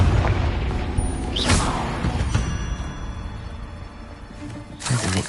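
Confringo fire spell blasts in the Hogwarts Legacy video game, a booming burst with whooshing swish around the second and a half mark, then another loud blast near the end over busy game background.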